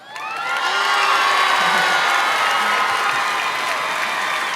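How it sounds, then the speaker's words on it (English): An audience claps, cheers and whoops for basketball player Maddy Siegrist, a loud, dense burst of applause with high shouts and cheers rising quickly and holding steady throughout. "everyone give Maddy a round of applause"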